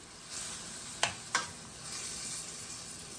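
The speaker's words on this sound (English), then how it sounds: "We're going to stir them around in there and saute them up real good" Crab and shrimp sauté in a pan for a creamy spicy Cajun spinach dip, with a soft steady sizzle broken by two sharp utensil knocks close together.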